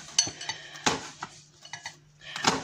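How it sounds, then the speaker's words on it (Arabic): A knife cuts hot chili pepper on a kitchen board, giving a few sharp, close taps and clinks spaced irregularly, with faint utensil clatter and no talk. "غنحاولوا نقطعوا هكا الحار"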